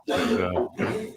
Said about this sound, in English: I'm hearing somebody in the background coughing